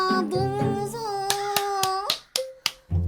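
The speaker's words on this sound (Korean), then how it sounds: "박수 박수" Several sharp hand claps ring out in a loose series, following and mixed with excited, sustained vocal sounds, celebrating beating a Roblox horror game.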